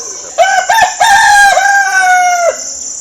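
A rooster at a rural camp in Chad at sunrise crows loud and close, one long cock-a-doodle-doo with a stuttering start, heard alone.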